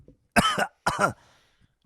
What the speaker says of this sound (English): We don't edit out COVID coughs to remind you that this pandemic is real.